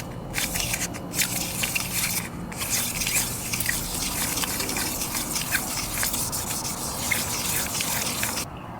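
Running water gushes and splatters steadily over scooter CVT parts being rinsed, a close, continuous wash with small crackling drips and no talk.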